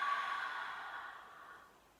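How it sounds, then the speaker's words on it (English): A long, soft exhale taken in yoga child's pose, breathy and steady, fading gradually over two seconds with no talking. "And a deep exhale."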